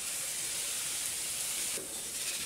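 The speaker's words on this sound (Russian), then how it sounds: "Все оставшиеся блины жарим на сухой сковородке." A soft, steady sizzle of an egg-free, milk-free pancake frying in a dry pan, close by, with a slight shift in texture partway through; no one speaks.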